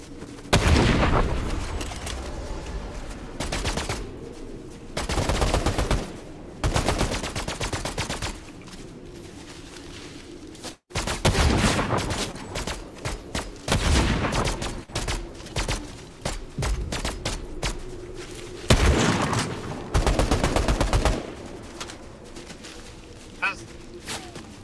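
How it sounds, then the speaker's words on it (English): Rapid gunfire bursts from a Fortnite match, sniper rifle shots among sharp cracks and volleys, loud and repeated in clusters across the scene with game music and ambience underneath. "He's sniping right there."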